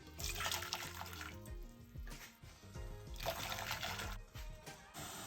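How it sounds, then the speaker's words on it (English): Hot water pours and splashes into a container in two bursts, with gurgling trickles between, close and fairly quiet, while making fried chicken. "I'm adding 2 cups of hot water here."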